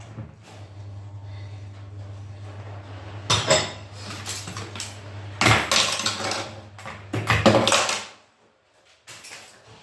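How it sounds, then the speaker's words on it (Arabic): Dishes clatter and clink as they are handled and stacked in a home kitchen, in several loud bursts of rattling crockery and cutlery separated by quieter pauses, with a low steady hum underneath. "هكا تشخشخ المواعنيه"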